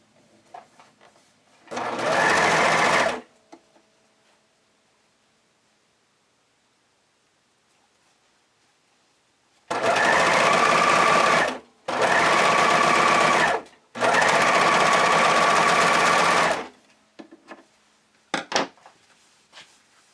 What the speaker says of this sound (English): you can do this on your sewing machine or serger